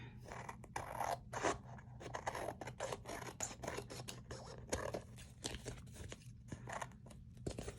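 Scissors snip through decorative Paper Cameo paper for a woodland-themed folio, a quiet, close series of irregular crisp cuts and rustles with no voice.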